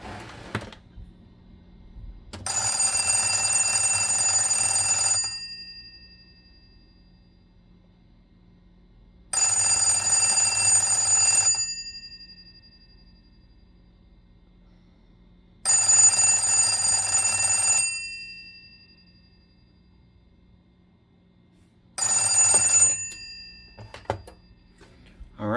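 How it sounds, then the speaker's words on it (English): A VEF TA68 telephone from Latvia rings its bell in four loud bursts of about two to three seconds each, separated by quiet pauses, with the last ring cut short. "And lastly, we will give the phone a ring."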